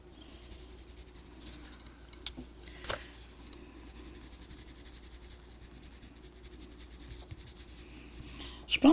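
Inktense colored pencil scratches across paper in a soft, steady, close scribble with a few sharper ticks, faint and continuous with no voice.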